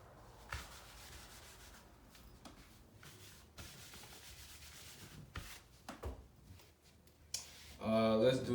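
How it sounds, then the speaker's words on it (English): An eraser rubbing on a writing surface during a math lesson gives repeated short scratchy strokes in bursts at close range, interrupted by brief talking. "Need a new eraser."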